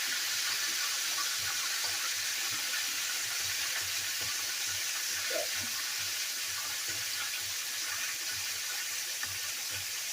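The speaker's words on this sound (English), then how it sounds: "You hear that sizzling?" Steady, hissing sizzle of chicken frying in a pan, with faint low stirring or scraping underneath and no speech.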